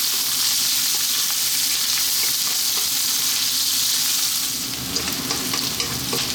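Onion fries in a pan on high heat for a fresh tuna curry, a loud continuous sizzle with a hint of stirring that stays steady throughout, with no voices.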